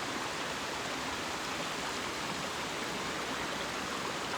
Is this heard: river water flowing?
yes